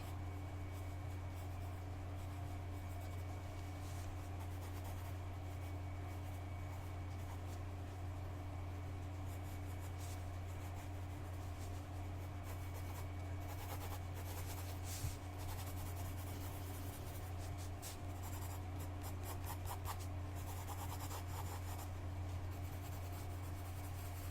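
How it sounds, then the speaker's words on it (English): Pen sketching a tattoo design on paper in a quiet ASMR tattoo consultation setting, a soft steady scratching of the nib under a constant low hum, close and faint, with no talking. "this is just going to be a quick sketch"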